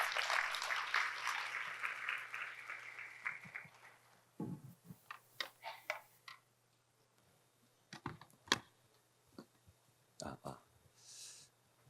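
A conference audience at a 2023 human resources development event claps loudly at first, and the applause fades away over about four seconds. Speech follows, broken up by microphone clicks and handling noises.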